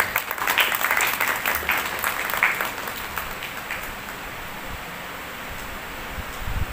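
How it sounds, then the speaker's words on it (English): An audience at a school National Science Day celebration applauds loudly and steadily for about three seconds, then the clapping thins and fades into a softer wash of scattered claps and room noise. "So I request all of those who are sitting here to give them a big round of applause."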